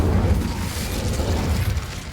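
A fire spell cast in the Hogwarts Legacy game gives a dense, loud, continuous roaring burst with heavy low rumble and crackling texture, sustained throughout with no talking.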